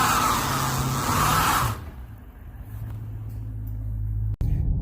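A rebuilt 2014 Dodge Charger R/T, fixed up after a wreck, on its first test drive: loud broadband road and engine noise at first, then a steady low engine drone and rumble from inside the car, with no talk.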